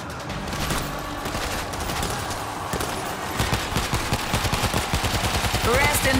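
A big gun fires in the zombie shooter World War Z Aftermath: loud, relentless rapid fire that runs the whole time and grows into a tighter, pounding rhythm toward the end.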